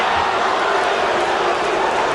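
An NBA arena crowd in a broadcast makes a dense, steady roar that stays loud and even throughout, with no distinct cheers or voices standing out.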